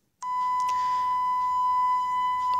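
A steady, pure electronic test tone plays through the earpiece receiver of a Samsung phone after a secret code is entered. It starts abruptly and holds constant and unbroken, with faint handling noises in the background.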